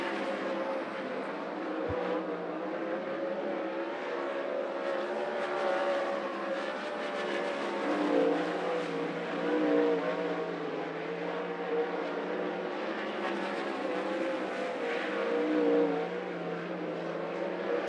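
360 sprint race cars run green-flag hot laps at Grays Harbor Raceway, a steady loud roar of several engines that swells and fades as they circle the track, with no talk over it.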